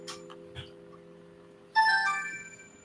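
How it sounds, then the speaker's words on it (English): A mobile phone rings with an incoming call during a chess league game, a bright electronic melody starting abruptly after a quiet stretch and sounding loud and close. "phone call."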